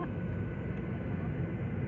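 Steady broadband airplane engine roar heard from a passenger seat beside the wing, a constant low cabin drone with no distinct events.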